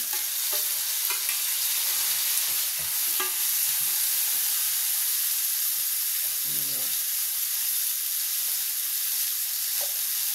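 Onion and tomato fry in a pan, giving a steady close hiss and sizzle with occasional stirring clatter, and faint talk in the background.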